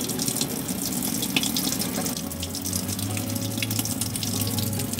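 Water runs steadily from a pipe after being siphoned from a tank, a constant close splashing gush with a low hum joining partway through.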